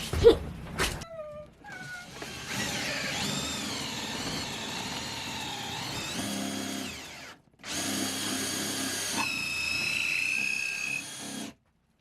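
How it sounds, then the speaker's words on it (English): Wood rubbing against a drill bit during a home porch build makes a high, wavering squeal that comes in two long stretches separated by a short gap, after a few brief knocks at the start. "Squealing. It's wood rubbing on the drill bit."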